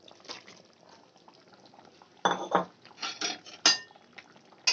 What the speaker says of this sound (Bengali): ঝোলটা ফুটে গেছে, এই টাইমে আমি ভেজে রাখা ফুলকপিটাও দিয়ে দেব।